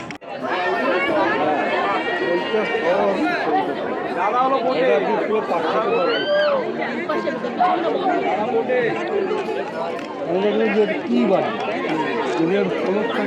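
Tourists crowd a Sundarban riverside spot in winter, a dense hubbub of overlapping voices with shouts and a child's cries rising through the chatter, steady and close throughout.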